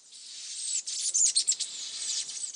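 Dense chorus of high, bright birdsong fills a garden in Guadeloupe, many overlapping chirps and trills at moderate volume with no voices.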